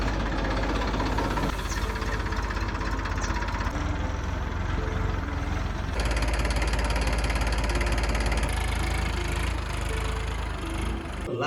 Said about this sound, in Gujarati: ટ્રેક્ટરમાં નાખી અને ટ્રેક્ટર ચલાવવાનું છે આજે